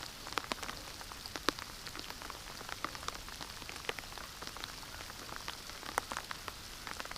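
Steady outdoor rain falling on surfaces, a soft continuous hiss scattered with sharp individual drop taps at irregular moments, moderately faint and with no voices.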